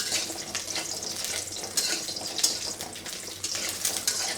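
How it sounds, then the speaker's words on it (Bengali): Lentil dumplings (bori) fry in oil with a bright, crackling sizzle and a few sharper pops, close and steady throughout with no talking. "বড়িগুলো ভেজে নিচ্ছি এখন সুন্দর করে, একটু লাল লাল করে এপিট ওপিট দিয়ে ভেজে নিচ্ছি।"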